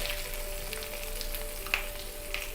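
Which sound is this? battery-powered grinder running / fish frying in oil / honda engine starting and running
fish frying in oil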